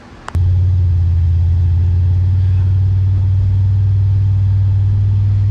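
An SN95 Ford Mustang on a test ride: after a short click, a loud, steady low engine drone and road rumble inside the car, holding constant throughout.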